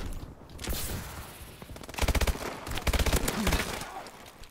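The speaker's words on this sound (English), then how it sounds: "I keep forgetting it's burst fire weapon." Burst-fire weapon shots in Call of Duty: Advanced Warfare, loud rapid clusters of gunfire in quick repeated bursts, close and punchy, with brief gaps between volleys.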